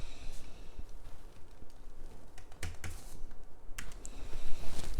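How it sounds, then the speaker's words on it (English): Fingers tap on a computer keyboard in quick, irregular bursts of clicks, close and fairly quiet, with no talking. "I'm going to type."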